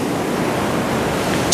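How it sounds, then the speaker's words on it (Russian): Sea waves rolling onto a beach on the Spanish coast, a loud, broad rushing wash of surf with wind buffeting the microphone, close and continuous, no voices. "вот такая волна на нас надвигалась"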